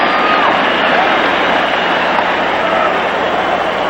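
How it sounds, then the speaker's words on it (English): A 1970s New England football stadium crowd on its feet roaring after a long Roadrunners play, a dense loud continuous cheer filling the whole stretch with no break. "This crowd on its feet, thrilled by that performance by the Roadrunners."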